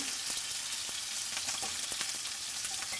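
Octopus pieces sizzle steadily on a hot grill, a continuous close, bright crackling hiss with small pops scattered throughout and no voices.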